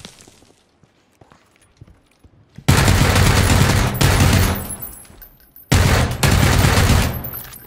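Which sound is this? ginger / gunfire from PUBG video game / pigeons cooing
gunfire from PUBG video game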